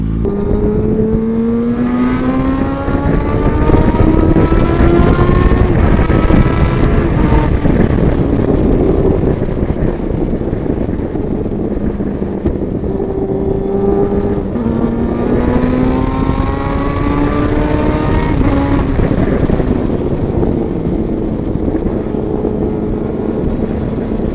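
Sport motorcycles, a BMW S1000 RR and a Yamaha FZ1, riding past with loud, continuous engine drone whose pitch climbs and falls through repeated revving and gear changes, with steady wind rush throughout.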